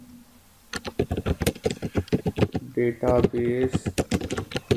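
Rapid keystrokes on a computer keyboard while a database project heading is entered, a busy patter of clicks running under a man's continuous speech.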